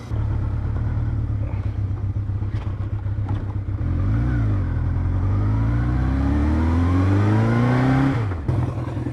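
An old, leaking Kawasaki KZ650SR motorcycle that runs rough, its engine droning steadily on the road and revving up and down through gear changes, close and loud with no talk.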